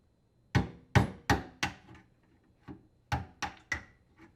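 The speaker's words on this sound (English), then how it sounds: "knock out the drain tube plug using a screwdriver and hammer" Sharp hammer blows on a screwdriver knock out the drain tube plug on a Whirlpool WDF520PADM dishwasher, four quick strikes, a faint tap, then three more, close and loud with no talk.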